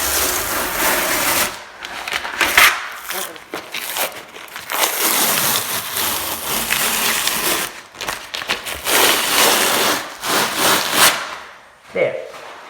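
An outer layer of wallpaper is peeled off a wall in long tearing, crackling rips, loud and close, coming in several bursts with brief pauses between them.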